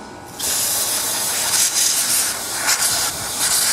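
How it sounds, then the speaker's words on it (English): A steady, close hiss of aerosol cleaner sprayed onto the carburetor of a Stihl BG50 two-stroke blower, running continuously for a few seconds, with slight surges in intensity. "spray it down, clean off some of the gunk around the carburetor."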